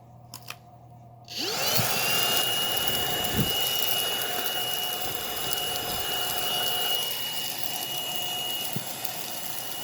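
A Eureka TheBoss 4D vacuum cleaner switches on after a moment of quiet and runs with a steady, loud motor whine and airflow roar, with a few faint knocks along the way.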